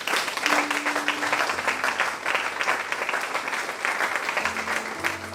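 A church congregation applauding: dense, continuous clapping from a crowd that fills the room, steady and loud from start to finish, with a faint tone underneath.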